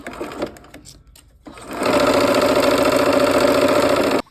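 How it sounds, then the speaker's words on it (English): A sewing machine stitching pinned quilt pieces for a basket quilt block: a few quiet handling sounds, then a loud, steady, close motor whir with rapid needle chatter running unbroken for over two seconds before stopping abruptly. "We're gonna go ahead and sew this, and I'm gonna put my needle down again"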